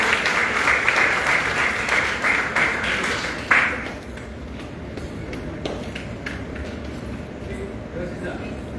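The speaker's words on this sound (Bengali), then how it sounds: "একবার জোরে হাততালি হয়েছে।" An audience at an education expo claps, a dense burst of applause in the opening seconds that fades and thins out. Talk continues over it.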